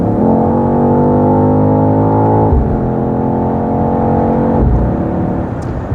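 A BMW XM G09 SUV in sport plus mode accelerates hard from inside the cabin, a loud, steady engine drone climbing in pitch through two quick gear shifts.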